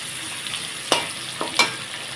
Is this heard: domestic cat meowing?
no